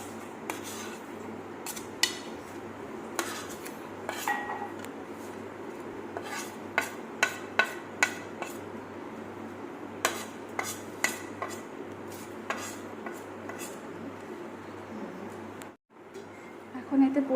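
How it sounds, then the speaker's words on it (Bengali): Duck meat with cumin, salt and oil stirred in a pan: a steady stream of scraping and metallic clinks from a spoon against cookware over a low background hum, with no talk. "এখন এতে পরিমাণ মতো তেল দিয়ে ভালো করে নেড়ে এটিকে 10 মিনিট রেখে দিব।"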